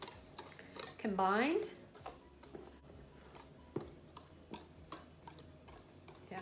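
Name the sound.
whisking dry cake mixture in a bowl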